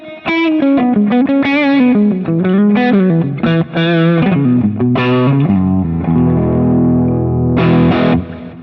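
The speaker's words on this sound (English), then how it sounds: "Little tube screamer action." Les Paul-style electric guitar through a Tube Screamer overdrive pedal, loud gritty distorted riffs with bent notes and chords, ending on a ringing sustained chord, close and alone.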